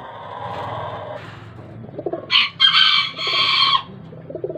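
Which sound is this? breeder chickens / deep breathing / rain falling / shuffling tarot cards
breeder chickens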